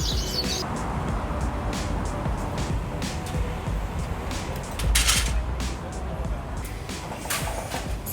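Small birds chirp in quick, high bursts throughout a busy Hong Kong bird market, with steady crowd and street noise underneath.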